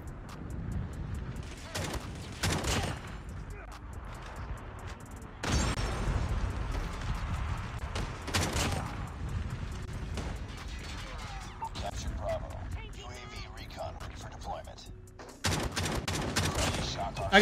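Shotgun fire in the Call of Duty Mobile video game, using the new ECHO shotgun: a string of loud, sharp blasts in close succession, with bursts clustered through the stretch amid game effects and players talking.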